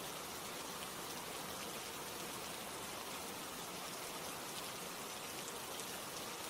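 Steady rain falls in a dense, even hiss of drops on surfaces, constant and unbroken throughout at a soft, moderate level.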